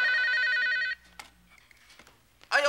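A telephone bell rings in a Korean TV comedy sketch office scene, one loud electronic ring burst that stops, then a short pause before a man answers in a brief voice.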